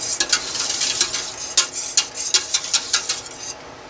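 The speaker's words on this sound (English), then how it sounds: "Just whisk it in so it's all nicely blended." A soap mixture is whisked in a bowl, giving quick, bright, rhythmic clinking and swishing strokes close by that run for about three and a half seconds before stopping, with no one speaking.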